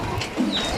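A brief pigeon coo rises close by amid faint background noise, a single soft low call from a flock of male pigeons.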